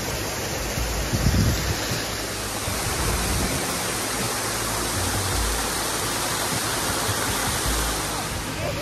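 Steady, dense roar of Sangameshwaram waterfall in Telangana flowing in the dry summer season, a continuous broadband rush of falling water close by with no break across the whole stretch.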